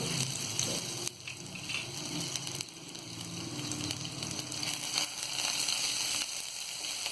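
Garlic and ginger sizzle steadily in a hot pan, a constant, fairly close crackling fry with no talk.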